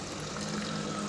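Water pouring into a glass, a brief, steady splashing stream heard up close and fairly loud throughout.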